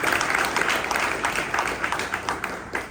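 A short round of audience clapping at a presentation, fairly loud and dense at first, then turning more scattered with individual claps standing out.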